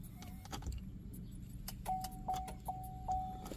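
Chevy Silverado smart keys jangle and clink in short bursts while being handled and pulled out, with a soft steady chime or beep repeating in the background of a quiet truck cab.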